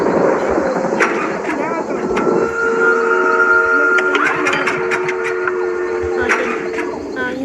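Train in the horror video game Choo Choo Charles, heard as a steady rumble with whistle-like tones held over the middle of the clip and sharp clanks toward the end.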